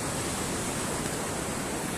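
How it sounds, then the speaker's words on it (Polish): Rough, choppy Mediterranean Sea waves at sunrise make a steady, dense roar of surf that fills the scene without pause and without any voices. "piękne morze, wzburzone"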